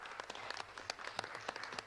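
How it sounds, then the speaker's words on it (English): A small audience claps at a Trans Day of Remembrance event during a legislative second reading, sparse, uneven individual claps sounding faint and somewhat distant. "Give them another round of applause."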